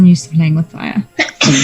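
A single sharp, breathy sneeze bursts out at the end, right after a few spoken words.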